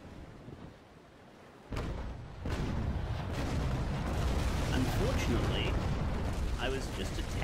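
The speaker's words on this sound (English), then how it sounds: "I'm going to shoot at the Cerberus here." Heavy gunfire aimed at the Cerberus in a video game: a quiet stretch, then a sudden deep boom followed by a loud, sustained rumbling roar of firing and blasts.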